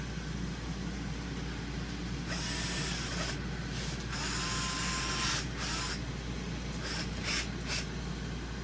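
A power drill drives screws into a wooden RV dinette booth, several whirring bursts over a steady low mechanical hum, close and fairly loud, with no voices.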